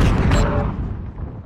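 A single heavy shotgun blast goes off in a video game, close and loud, with a deep boom that rolls away over about a second.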